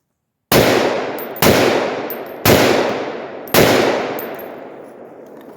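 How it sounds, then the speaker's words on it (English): Four loud rifle shots from a SCAR 17S or AR-10 with 147-grain ammunition ring out at an outdoor range, spaced about a second apart, each crack followed by a long decaying echo. "I'm going to be shooting in this direction here so you guys can see the muzzle better"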